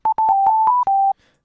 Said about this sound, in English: See, there's our sine waves.